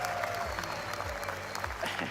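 Watch-party crowd at an RLCS Copenhagen Major Rocket League event applauding steadily, a dense continuous patter of many clapping hands with a few cheers mixed in, fairly close and filling the whole moment without speech.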